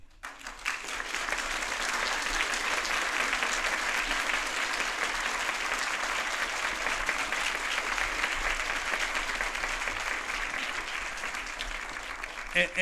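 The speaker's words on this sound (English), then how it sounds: "So we really appreciate the applause." Steady applause from a large audience at a college commencement ceremony, dense clapping that holds at an even level for the whole stretch before easing slightly at the end.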